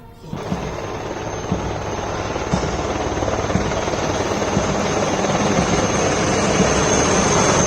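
A helicopter flies over a military academy graduation ceremony, showering flowers on cadets about to become army officers; its loud, steady rotor and engine drone fills the whole stretch with no voices.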